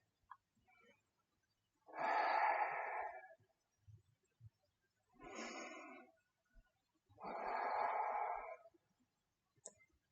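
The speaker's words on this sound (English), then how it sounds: "Take a full breath in and a full breath out." Slow, deep yoga breathing: three long, audible breaths in and out, close and soft, with near silence between them and no talking.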